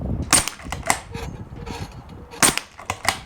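Several sharp rifle shots ring out with metallic impacts as bullets strike spinning steel targets in a single-shot speed challenge, about four bursts in quick uneven succession, loud and close.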